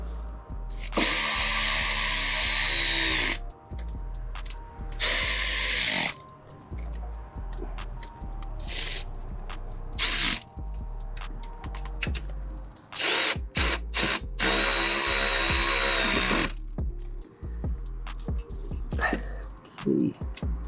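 A power sander whines on and off in loud bursts while parts are sanded down for an RB engine swap into a Datsun 240Z, with clicks and handling noises between runs and no speech.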